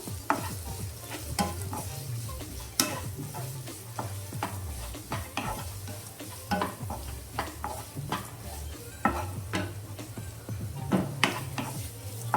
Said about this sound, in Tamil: ஆட் பண்ணி நல்லா வதக்கிக்கலாம்